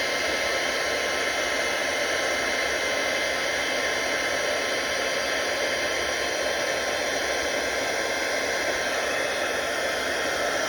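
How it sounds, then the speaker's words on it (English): A heat embossing tool blasts hot air over a handmade birthday card, making a loud, steady fan roar and hiss that holds unchanged from start to finish with no pauses. "But you can always fast forward through the heat embossing here. It's too noisy."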